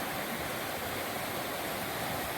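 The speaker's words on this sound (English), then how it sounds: "flowing over the river, over the rocks. And there's the rapids that we were just looking at a moment ago." Quinapoxet River water rushes over rocks and rapids in a steady, even roar, with no voices.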